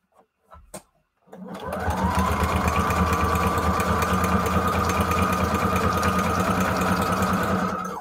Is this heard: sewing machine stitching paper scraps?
yes